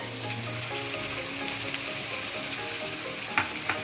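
Rita fish frying in a pan with a spice mix of cumin, turmeric, ginger paste, red chilli and coriander powder, giving a steady close sizzle with a couple of sharp crackles and stirring scrapes near the end.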